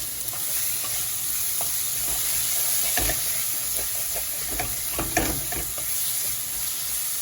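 Onions sautéing with salt in oil for a Jaffna-style chicken curry, a loud, close, steady sizzle with frequent small stirring clicks and scrapes throughout.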